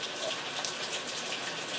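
Rain falls outdoors as a soft, even hiss of drops, faint and steady throughout, with no voices.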